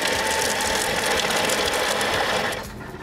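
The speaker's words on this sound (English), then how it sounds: "grind it a little bit coarsely to bind it together to make a beautiful dough." A food processor or grinder blends turmeric latte cracker mix into a dough, giving a loud, steady mechanical whirring and grinding that runs continuously and then winds down near the end.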